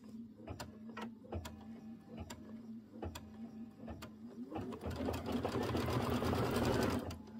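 A sewing machine stitches quilt pieces for an autumn pumpkin quilt, starting with short separate bursts of stitching and then settling into a louder, steady run near the end.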